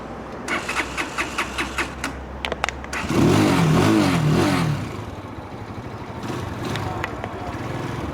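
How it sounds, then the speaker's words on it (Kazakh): Rapid clicking of a starter gives way to a motorcycle engine catching and revving, then settling into a steady, close idle. "Осы шланга жалғаймыз да мотоциклді оталдыратын боламыз"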